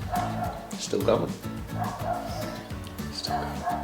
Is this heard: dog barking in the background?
yes